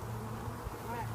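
Honeybees buzz steadily around an open beehive during an inspection, a close, continuous droning hum with no pause over the brief moment.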